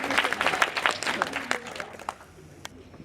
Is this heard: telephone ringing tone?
no